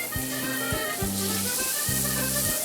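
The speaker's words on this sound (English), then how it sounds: "taking a knob of butter and melting it" Butter melts and sizzles in a pan with onions, a steady soft frying hiss running throughout, overlaid with a few low tonal beeps.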